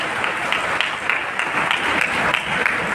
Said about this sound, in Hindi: आप इनके लिए जोरदार तालियां बजाइए